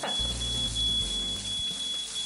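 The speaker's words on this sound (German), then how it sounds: "Der Rauchmelder." A smoke detector at a flea market in Cologne gives off a steady, high, continuous electronic tone, with low rumbling handling noise and no speech.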